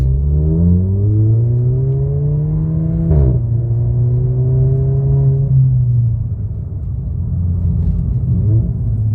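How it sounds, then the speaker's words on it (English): A Volkswagen engine revs loudly through its exhaust, pitch climbing, dropping sharply, then climbing again before settling into a steady low roar and a rough rumble, close and alone without speech. "The exhaust on this thing is super loud."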